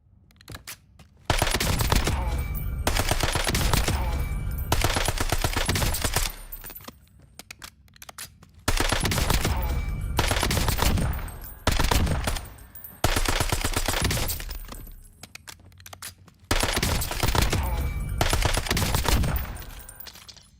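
Assault rifle gunfire in Call of Duty Warzone, loud and close, in long sustained automatic bursts of a few seconds each, separated by brief quieter gaps, with no talking.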